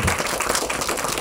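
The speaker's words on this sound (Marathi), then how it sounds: "एकदा जोरदार टाळ्या ट्रेलरसाठी व्हायला पाहिजे." Audience applause for a film trailer at a Marathi movie event, a steady, dense wash of clapping from a crowd that fills the whole moment without a break.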